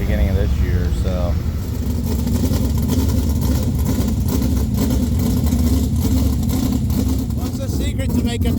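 A 305 race car engine roars and revs loudly at a racesaver nationals event, a dense continuous drone with shifting pitch, with people talking over it.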